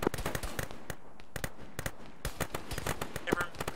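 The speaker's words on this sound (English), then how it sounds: "Oh, we're getting shot at, Ward." Rapid bursts of gunfire in a co-op military shooter video game, sharp cracks and short volleys scattered all the way through, with voices talking among the shots.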